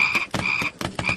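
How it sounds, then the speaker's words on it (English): Scorpion mob in a modded Minecraft world croaking like a frog, a loud burst of rapid croaks repeated three or four times in quick succession, close and without talk. "I have no idea why the scorpions sound like frogs."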